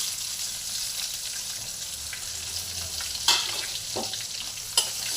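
Whole spices, bay leaf, white cumin seeds and whole garam masala, frying in oil after shrimp, a steady close sizzle with a few sharp clinks and scrapes of stirring.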